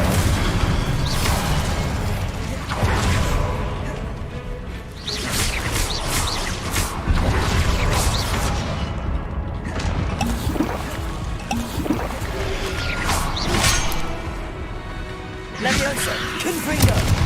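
Incendio fire spell in the Hogwarts Legacy video game, a sustained roaring, whooshing burst of flame with repeated loud surges and crackling bursts over several seconds, dense and close.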